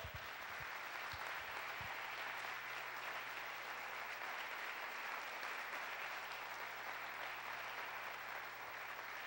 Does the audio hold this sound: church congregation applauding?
yes